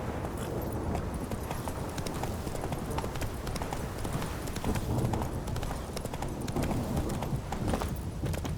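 Galloping hooves of a horse in The Witcher 3: Wild Hunt in war-ravaged Velen pound in a dense, continuous rhythm, loud and close, over a rumbling game backdrop.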